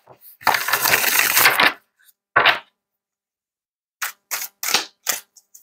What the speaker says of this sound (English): I'll do this shuffle here, even though these are slippery cards and I might send them flying.